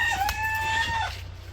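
Farm chickens on a village homestead, with a rooster crowing loudly nearby in a single drawn-out call over soft clucking and low background rumble.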